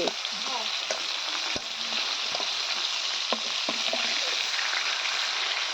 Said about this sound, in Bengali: মাছটা সুন্দর মতন ভাজা হলো